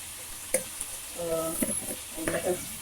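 Chicken sautés in oil in a pan for pineapple chicken, giving a faint, soft sizzle with a few light clinks of stirring throughout.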